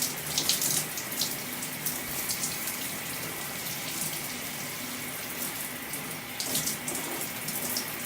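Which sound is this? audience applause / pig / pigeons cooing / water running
water running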